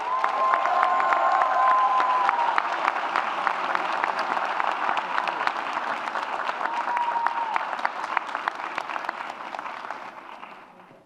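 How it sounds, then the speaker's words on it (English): Sustained applause from an audience at a university staff award ceremony, dense clapping with some cheering that starts loud and gradually thins and fades toward the end. "Let's give them another round of applause, please."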